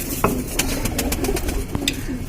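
A female pigeon kept by a Lucknow fancier coos softly in a few low, rounded notes over steady background hiss, with a couple of sharp clinks nearby.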